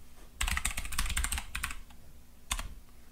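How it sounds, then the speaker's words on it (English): Quick bursts of keystrokes on a keyboard come in two clusters with a short pause between them, close and fairly quiet against a soft background hum. "I'm just typing my Wi-Fi really quick"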